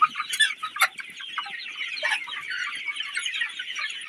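Sonali hens cluck and squawk steadily in a busy poultry shed, several birds at once, with a few louder calls near the start.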